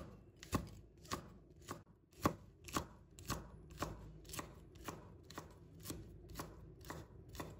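Knife chopping chili peppers into small pieces on a cutting board, a steady run of about a dozen crisp, evenly spaced close chops with no talking.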